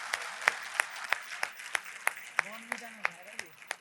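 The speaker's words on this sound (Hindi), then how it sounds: "आपकी तालियां कमजोर हैं।" A small audience at a Hindi folk song recital claps in a slow, regular rhythm, about three claps per second. The clapping is faint and sparse, and a voice is heard briefly underneath.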